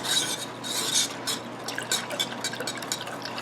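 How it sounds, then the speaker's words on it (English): Honey is whisked into elderberry syrup, a quick, wet clicking and sloshing of the whisk through thick liquid in a bowl, steady and close. "Whisk until fully incorporated."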